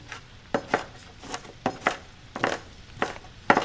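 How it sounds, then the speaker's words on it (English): An onion chopped with a knife on a board, roughly ten close, crisp chopping strokes falling in uneven pairs and clusters, with no talking. "you cut up your onion"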